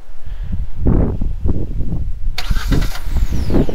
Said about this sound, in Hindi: तो अभी गाड़ी स्टार्ट हो रहा है, आप लोग देख सकते हो।